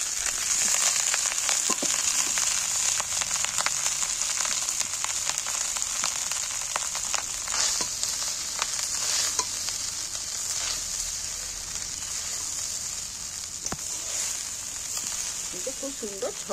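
Cooked rice stir-fried with ginger in a hot pan for fried rice, a bright, hissing sizzle throughout, broken by many sharp spatula scrapes and taps against the pan, close and steady.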